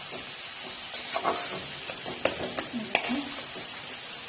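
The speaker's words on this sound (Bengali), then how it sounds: "পেঁয়াজ আর রসুন আর ডাল দিয়ে দিচ্ছি" Onion, garlic and lentils going into a hot pan in a village kitchen, a constant hiss of frying with scattered clatters and knocks of utensils against the pan.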